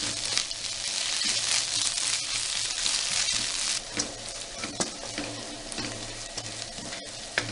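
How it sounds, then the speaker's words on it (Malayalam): Ginger garlic paste sizzles and crackles in a hot pan while being stirred for achari chicken, a continuous close frying hiss with occasional scraping clicks. "ഇഞ്ചി വെളുത്തുള്ളിയുടെ പച്ചമണം പോണ വരെ നന്നായിട്ട് വഴറ്റിയെടുക്കണം."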